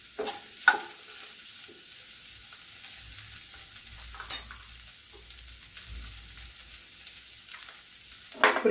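Corn masala ingredients sautéing in a pan give a steady low sizzle with occasional stirring scrapes and clinks, close and fairly quiet, with no voices.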